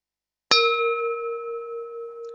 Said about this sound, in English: There's your 1 minute bell.